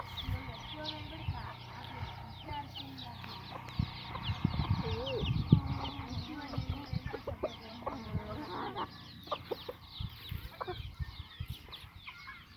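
Domestic hens and chicks, village-raised fowl, cluck and peep softly near people who talk over them throughout, with scattered short calls rising in the middle.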